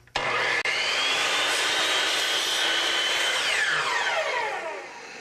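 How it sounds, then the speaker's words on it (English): A chop saw spins up and bites through a wooden trim piece at a miter angle for a display cabinet corner, a loud continuous whining cut with the motor winding down at the end, no talking. "we cut the pieces to size on the chop saw, making a miter for the corners"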